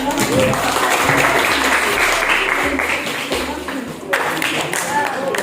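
A classroom audience applauds steadily for several seconds after a group presentation, the clapping loud and dense, with some voices mixed in beneath it.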